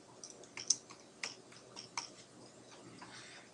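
A first name is typed on a computer keyboard in a buy-here-pay-here dealership account program, giving a few quiet, sparse key clicks close by, with no talk.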